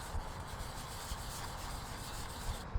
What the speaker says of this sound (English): What you want to do is sand it enough until it's smooth, so there's no bumps